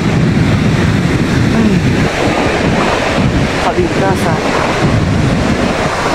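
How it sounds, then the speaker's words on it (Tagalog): Ocean waves rolling ashore as high tide rises, a steady loud wash of surf mixed with gusting wind buffeting the microphone, with a brief spoken word partway through. "Dito napunta na yung alon."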